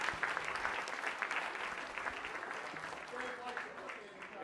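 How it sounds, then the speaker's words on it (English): Audience applause at a children's holiday science lecture, a moderately distant, steady patter of many hands clapping with voices mixed in, holding fairly even throughout. "Big round of applause for Mark."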